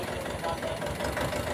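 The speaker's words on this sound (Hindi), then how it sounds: "तो ये देखो गाड़ी को स्टार्ट कर चुके हैं" A Mahindra Jivo 245 DI tractor engine running, a steady knocking diesel idle close by with a voice talking over it.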